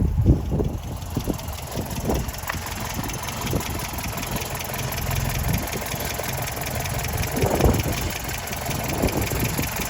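A restored 1938 MG TA with rebuilt carburettors idles steadily close by, a continuous ticking, slightly lumpy engine rumble with faint mechanical tapping throughout and no talk.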